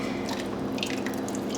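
Homemade soup pours and drips into bowls in a kitchen, a steady wet splashing and dribbling heard close up, with no talk over it.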